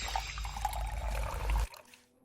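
Water pours steadily into a glass for over a second, a close, quiet splashing trickle that stops abruptly and leaves near silence.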